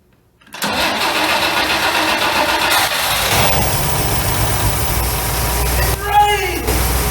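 An abandoned AMC Rambler engine, unrun for 47 years, turns over and catches, then settles into a loud, rough, steady idle, with a voice briefly heard near the end.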